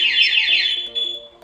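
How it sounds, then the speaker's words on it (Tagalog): A Yamaha NMAX V2 keyless scooter's two-way alarm sounds a loud, warbling electronic siren that sweeps downward, then settles into a steady tone and cuts off, alone and close. "Unang attempt po na magnanakaw, mag-alarm po siya, warning."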